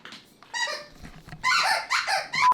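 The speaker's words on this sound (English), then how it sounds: "Squeak toys in a metal Airstream." A dog's squeak toy squeaks inside a metal Airstream trailer, giving a run of sharp, bright squeaks in quick bursts that grow louder toward the end, close by.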